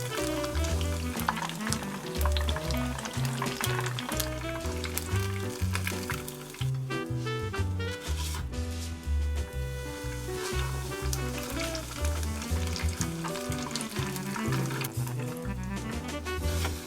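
Turnip cake cheese cutlets deep-frying in a small pot of oil, giving a steady, close bubbling sizzle that runs the whole time beneath loud background music.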